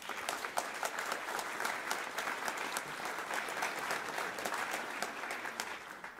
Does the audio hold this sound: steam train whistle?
no